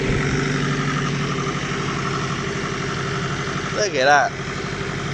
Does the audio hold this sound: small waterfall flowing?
no